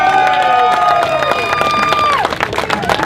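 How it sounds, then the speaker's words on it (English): Tea Party rally crowd claps and cheers for Congresswoman Michelle Bachmann, loud and close, with whoops and voices over the applause while music plays underneath. "applause for Congresswoman Michelle Bachman"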